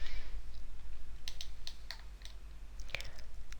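Quiet clicks of a computer keyboard as a root password is typed, a short irregular run of light keystrokes close by over a faint steady hum.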